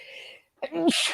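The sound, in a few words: a person sneezing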